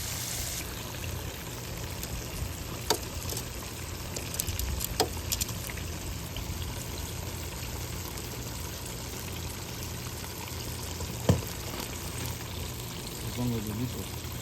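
Fish fried Honduran style in hot oil gives a steady, even sizzling hiss throughout, with a few sharp pops and crackles breaking through the constant fry.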